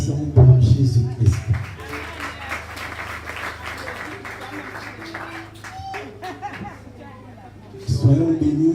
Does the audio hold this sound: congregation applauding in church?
yes